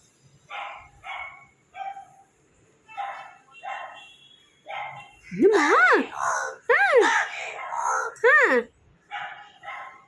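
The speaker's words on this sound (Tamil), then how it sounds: "நாய் கத்துறதா" A dog barks and yips several times in quick bursts, mixed with people talking nearby.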